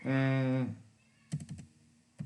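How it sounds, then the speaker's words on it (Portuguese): Keys tapped on a computer keyboard in a few brief clustered clicks and a final tap, quiet and close, after a short spoken sound at the start. "Eu vou digitando, ele vai"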